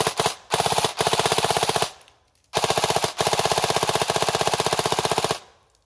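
A KWA airsoft rifle, a 2021 BLR MOD 2 prototype, fires in binary trigger mode, unleashing rapid rattling bursts of shots, each burst separated by brief pauses, loud and close with no talk.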